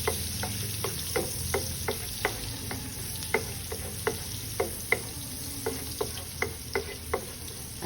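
Spring onion frying in a pan with a steady close sizzle, punctuated by regular light taps of stirring roughly every half second.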